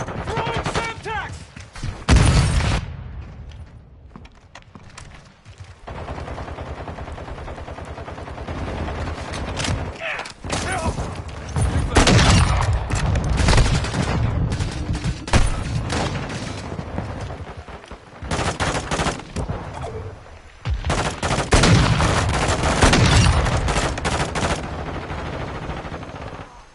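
Sustained gunfire in the video game Modern Warfare 2, with heavy automatic bursts, sharp single reports and booming impacts coming in waves over nearly half a minute, loud and close, with game radio voices breaking in between.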